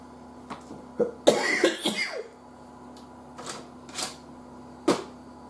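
A person coughing and clearing their throat, a short cluster of harsh coughs up close followed by a few single quieter coughs against a faint electrical hum.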